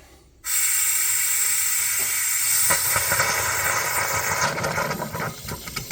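A home water filtration system pressurizing as its valve is cracked open for the first time, a sudden loud, steady hiss that starts abruptly and holds, with faint rattling and gurgling creeping in toward the end.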